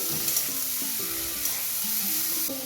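Jackfruit frying with bay leaf, five-spice seeds and chopped onion in a pan, a loud continuous sizzle with occasional stirring and no voices.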